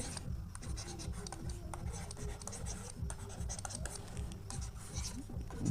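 Pen scratching across paper while a math problem is written out by hand, a steady close-up rasp of short strokes and pauses with faint background hiss.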